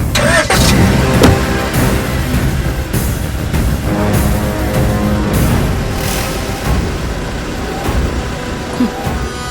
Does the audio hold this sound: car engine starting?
yes